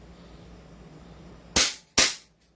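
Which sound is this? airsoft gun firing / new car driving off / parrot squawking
airsoft gun firing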